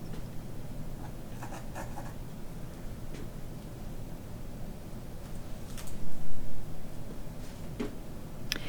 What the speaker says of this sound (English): For this big of a piece, I wanted to use my palette knife, and that's the reason why I'm using it.